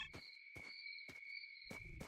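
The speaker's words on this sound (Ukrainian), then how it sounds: "Ще цвіркуни, блядь, збоку реально гусять." Crickets chirp in S.T.A.L.K.E.R.: Shadow of Chernobyl, two steady high tones ringing continuously at low volume, broken by a few soft thumps or footsteps, with no talk.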